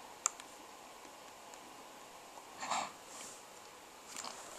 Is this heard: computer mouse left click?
yes